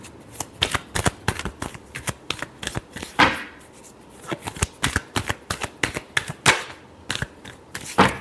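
Tarot cards shuffled by hand in quick, uneven bursts of crisp riffling flutters, each separated by short pauses, close and clear with no talking.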